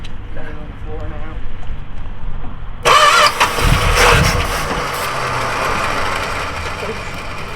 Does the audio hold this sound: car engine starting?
yes